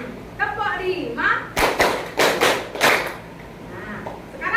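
Several loud, close hand claps land in an even rhythm, about five in a row, as part of a classroom ice-breaker, with a voice speaking before and after the clapping.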